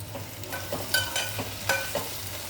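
Onions and green chilies frying in a pan for fenugreek pulusu, with a steady low sizzle and light stirring scrapes at irregular intervals, close and fairly quiet with no talking.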